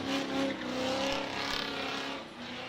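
Supercharged drift car tearing around a drift pit with a sustained loud engine roar and screeching tires, close and continuous with no talk.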